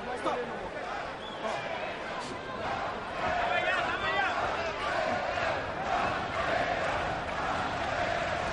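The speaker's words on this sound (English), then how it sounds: "Crowd is chanting Pantera, Pantera." A boxing arena crowd chants throughout during a fight, a dense roaring mass of voices with rhythmic swells that stays loud and steady from start to finish.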